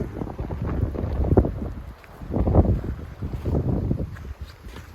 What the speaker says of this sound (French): le vent souffle à travers les arbres